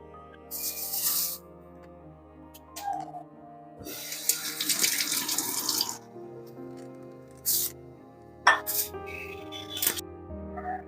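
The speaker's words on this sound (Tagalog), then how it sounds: "Hugasan lang natin ito at isasalang na natin." Broccoli rinsed under a running kitchen tap, with bursts of gushing water that start and stop several times, close and fairly loud, between quieter handling sounds and drips.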